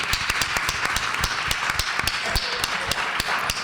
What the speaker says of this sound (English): So can we give him a hand clap for that?